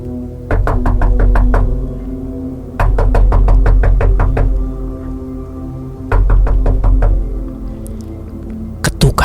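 Loud, close knocking on a door comes in bursts of several sharp raps, with short pauses between them, repeated four times.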